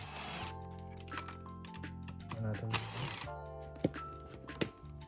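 A ratchet wrench clicks close and moderately loud while removing two 8mm seat bolts from a Yamaha R3 motorcycle, in short mechanical bursts with metallic clinks near the end.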